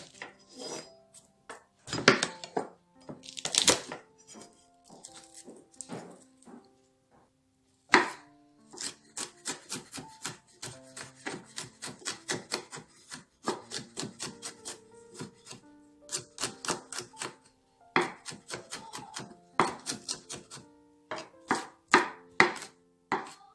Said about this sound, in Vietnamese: Mình lột ra và mình sẽ băm nó nhuyễn nha.